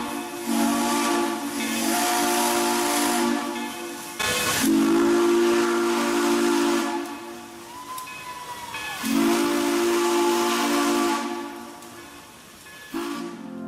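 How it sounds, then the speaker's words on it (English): An Illinois Central Long Bell three-chime steam whistle on QJ steam locomotive RJ Corman #2008 gives three loud, drawn-out blasts with pauses between, set against heavy steam hiss. "and of course, the Illinois Central Long Bell 3."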